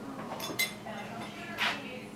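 A spoon clinks against a cooking pot of chuck rice and gravy, giving a couple of faint metallic taps and one brighter ring with quiet room noise around them.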